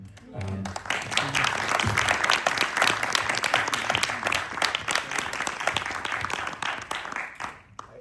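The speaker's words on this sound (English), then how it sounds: "I just would like to give a round of applause to Mike Peters from The Alarm" A steady, loud wash of audience applause for Mike Peters of The Alarm, dense clapping sustained throughout before tapering at the end, with a voice briefly audible at the start.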